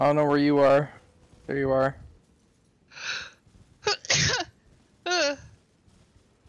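A single sharp sneeze bursts out among bits of casual speech and voiced sounds during Elden Ring play, close and loud, followed by quiet.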